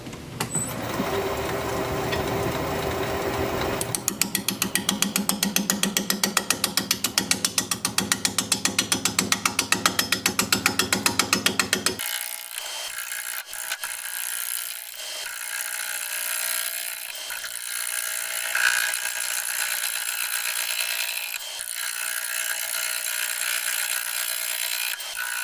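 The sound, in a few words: wood lathe turning a bowl with a 5/8 inch bowl gouge at 450 RPM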